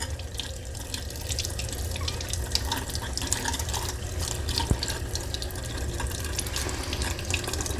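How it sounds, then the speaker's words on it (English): Tap water runs steadily into a sink while a dental splint is rinsed under it, a close, continuous splashing stream with small drips and clatters scattered throughout. "So now we'll rinse it really well."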